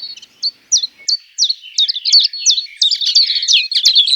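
Wild birds sing in a 130-hectare fallow field at Les Plaines Villes in Ploufragan, a lively run of high chirps and whistled phrases, close and clear, with no talk.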